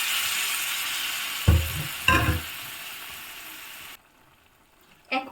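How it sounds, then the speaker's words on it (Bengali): Boiled moong dal and its bowl-rinsing water hit a hot sizzling pan in two quick splashy bursts during a vegetarian festive recipe, then the frying noise cuts off to near quiet. "এই সময় আমি দিয়ে দেব সিদ্ধ করে রাখা মুগ ডালটাকে, আর দিয়ে দিচ্ছি মুগ ডালের বাটি ধোয়া জলটা।"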